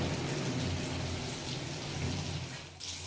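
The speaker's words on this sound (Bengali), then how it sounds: "এভাবে আমি এগুলোকে ভেজে নেব লাল লাল করে এইভাবে আমি ভেজে নেব" Chicken fingers frying in hot oil, a dense continuous hiss and crackle that fills the whole stretch close up, with a brief dip near the end and no talk.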